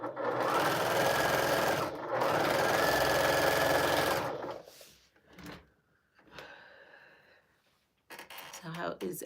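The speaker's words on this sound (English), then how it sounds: "Now we can start sewing." A sewing machine stitches a quilt in two long steady bursts, loud and close, with a brief pause between them. Quieter handling clatter and a little talk follow.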